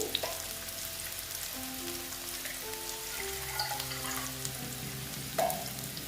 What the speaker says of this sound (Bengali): পেঁয়াজগুলো ভালো মতো ভেজে নিচ্ছে